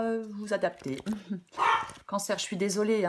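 A dog barks and yips in short bursts mixed in with someone speaking French close by, the barks overlapping and interrupting her talk.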